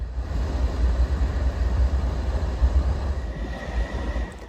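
An FRA track inspection railcar rolls along the rails toward Fullerton Junction, giving off a continuous low rumble with wheel and track noise that stays loud and steady, then eases a little near the end as a faint squeal rises.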